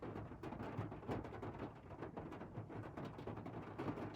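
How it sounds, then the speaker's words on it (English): Soft, faint rain pattering steadily outdoors in rural Tennessee, a dense low hiss of drops with occasional heavier rumbles beneath. "Just the pitter-patter of rain"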